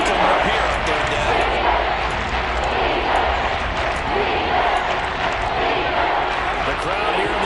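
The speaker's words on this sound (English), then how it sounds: "The crowd here in the Dome making things difficult." Steady, dense stadium crowd roar inside the Dome during a football game, loud and continuous throughout with a commentator talking over it.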